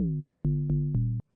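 Synth pluck with its default pitch envelope sounds four short, low tonal notes in quick succession, each opening with a brief pitch-swept click before a steady hum, clean and isolated.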